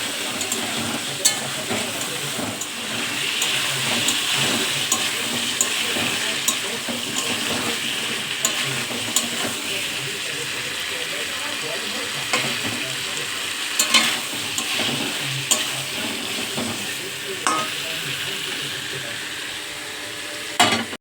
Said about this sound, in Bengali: এবার অল্প অল্প করে জল দিয়ে কষাতে থাকবো